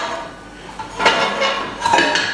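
A large metal cooking pan is lifted and set down on a kitchen stove, giving loud clanks and scrapes of metal against metal, close by, with no talking.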